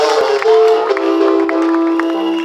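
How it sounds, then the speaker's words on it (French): A church congregation at a Sunday service cheers and acclaims loudly, with sustained raised voices and ringing tones from a mixed crowd close by. "Acclamons le Seigneur Jésus-Christ."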